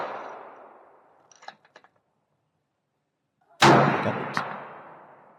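A Remington 700 5R Mil Spec .308 rifle fires American Marksman ammunition. One sharp, loud crack rings out and decays, with faint clicks and the fading tail of an earlier sound before it.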